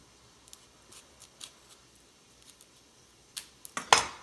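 A knife cuts and peels a yellow onion in a quiet kitchen, making small crisp snips and scrapes that build to a few louder crunchy cuts at the end.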